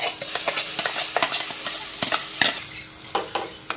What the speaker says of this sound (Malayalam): അതേ പാത്രത്തിൽ കുറച്ചും കൂടി നെയ്യ് ഒഴിച്ചു കൊടുത്തിട്ട് ചക്ക ഒന്നും നമുക്ക് വറുത്തിയെടുക്കണം